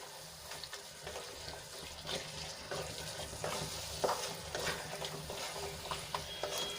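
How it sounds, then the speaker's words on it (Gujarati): Green chickpeas sauté in hot oil in a pan, a steady low sizzle with scraping stirring strokes and occasional clatter, no voices. "અને બેથી ત્રણ મિનિટ માટે આપણે એને તેલમાં સંતળાવા દઈશું"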